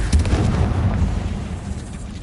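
A Confringo fire spell explodes in Hogwarts Legacy with a loud, booming burst at the start, followed by a sustained rumbling roar that fades slowly over a couple of seconds.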